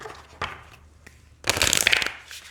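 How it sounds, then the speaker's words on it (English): Oracle cards are shuffled close up: a few soft taps, then a dense burst of rapid riffling flutter that trails off. "let's see how they shuffle here"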